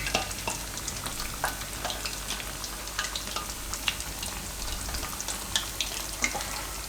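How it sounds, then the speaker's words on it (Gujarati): Rice flour puris frying in hot oil over a low flame, a steady soft sizzle with scattered crackles and pops, close and alone. "તો ધીમા ગેસે એને તરાવા દેવું આપણે"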